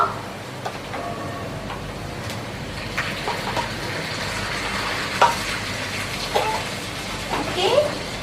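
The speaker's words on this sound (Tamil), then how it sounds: "வெங்காயம் இங்க வதங்குது" Onions and chilli paste fry in a pan with a steady, close sizzle that runs throughout, with occasional small pops and faint speech at times.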